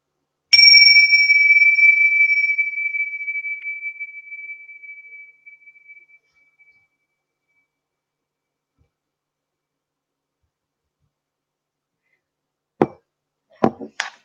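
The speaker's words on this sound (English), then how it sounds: "let's ring the bell and bring us to presence" A meditation bell rings once with a clear, bright strike that fades slowly over several seconds into silence, followed later by a couple of soft knocks.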